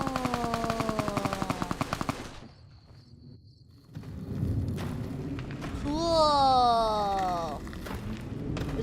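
Rapid automatic gunfire rattles out in a close, even burst in Fallout: New Vegas, then cuts off, followed by quieter ambience and a stretch of speech.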